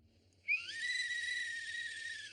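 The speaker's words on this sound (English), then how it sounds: "This is my new employee training whistle" A shrill whistle blown once and held for about two seconds, steady and loud, used to get bagel-shop trainees' attention, over faint low background hum.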